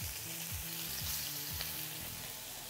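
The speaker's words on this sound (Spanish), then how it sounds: "Ya estamos a punto de humo. Y vamos para adentro. Vamos a sellar." Pork fillet sears in a smoking-hot pan, giving a steady, close sizzle and crackle that runs through the whole stretch with no voices over it.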